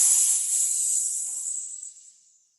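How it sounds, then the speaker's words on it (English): A hissing sound effect of air escaping from a poked bubble, a loud, steady hiss that starts at full strength and fades away over about two and a half seconds, heard alone. "That is the sound of a hole being poked in my bubble."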